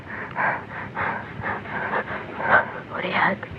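Heavy panting from a person out of breath after running, rapid rhythmic breaths close and fairly loud, with a voice speaking over part of it.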